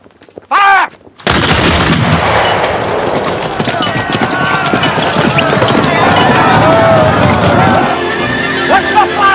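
In a 1993 Napoleonic-era TV drama, a shouted command is followed by a musket volley that bursts into a loud, sustained roar of gunfire and battle noise lasting several seconds.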